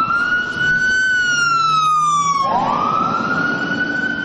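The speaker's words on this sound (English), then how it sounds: "we saw several ambulances and fire trucks whiz by with their sirens blasting" A loud ambulance and fire truck siren wails nearby in Los Angeles, holding a long tone and then sweeping upward, with traffic rumbling underneath.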